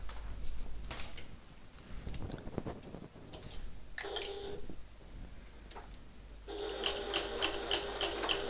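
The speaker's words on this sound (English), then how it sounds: "we're going to sew along this curve, this top curve, using our regular seam allowance" A domestic sewing machine stitches a curved top seam on a handbag with a regular stitch length, running in short rapid bursts with pauses between, close and fairly quiet, with no one talking.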